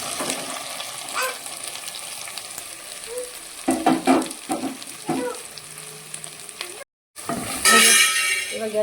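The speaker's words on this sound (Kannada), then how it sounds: "ಇವಾಗ ಎಲ್ಲವನ್ನು ಒಟ್ಟಿಗೆ ಚೆನ್ನಾಗಿ ಫ್ರೈ ಮಾಡ್ಕೋಬೇಕು" Okra and onions fry in hot oil, a steady crackling sizzle with bursts of stirring scrapes; a brief cut to silence near the end is followed by a louder, brighter sizzle.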